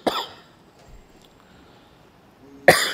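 Two sharp coughs, one at the start and one near the end, close and loud, separated by quiet.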